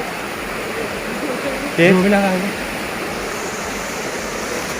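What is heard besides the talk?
waterfall on a river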